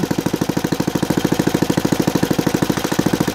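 A Saito FG36 model engine with CDI ignition runs on a test stand with a propeller, giving a fast, steady, evenly pulsing buzz at high RPM, loud and close without a break.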